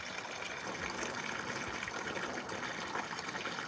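Water streams steadily from a hose near racing pigeons, a continuous hissing splash at moderate, even loudness throughout.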